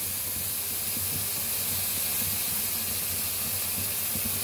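Onions fry in mustard oil in a pan, a dense, even sizzling hiss that holds steady and close, with a faint low hum in the background.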